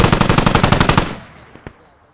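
Rapid automatic gunfire from the video game Squad, a fast burst of about a dozen evenly spaced shots for a second, then a couple of fainter isolated reports as it trails off.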